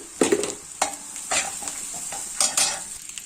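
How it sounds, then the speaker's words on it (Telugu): Eggs frying with onions and tomatoes in a pan, crisp sizzle under four or five scraping stirs of a spatula, close and fairly loud, with no talking. "ఇదిగోండి, గుడ్లు కూడా నేను వేపుతున్నాను."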